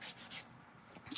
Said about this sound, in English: just going to use my little scratchy sanding disc here to get rid of